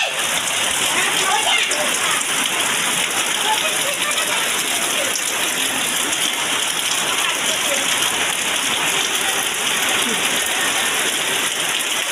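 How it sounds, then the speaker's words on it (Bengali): Rainwater falling steadily in a continuous, even hiss of drops pattering on surfaces, close by and moderately loud, with faint voices in the background. "বৃষ্টির পানি পড়তেছে যে, এই যে"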